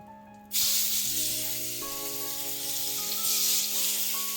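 Seasoned meat dropped into a hot pan to sear, a loud sizzle bursting in abruptly and holding steady, with faint sustained tones in the background.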